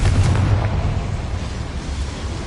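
The Confringo spell in Hogwarts Legacy goes off as a deep, rumbling explosion that starts with a burst and then fades into a low roar over a couple of seconds.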